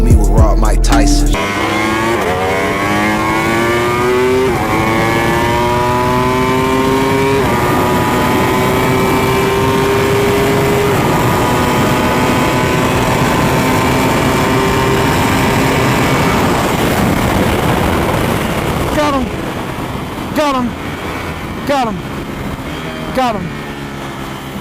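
An Aprilia RSV4 1100 Factory sport bike runs at speed, its engine note loud and close, climbing through rising pitch sweeps as it accelerates and shifts, with wind roar throughout and a shout breaking in near the end.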